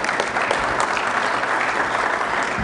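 Sustained applause from an audience at a Rotary Club of Denver award ceremony, steady dense clapping filling the room for a few seconds without a break.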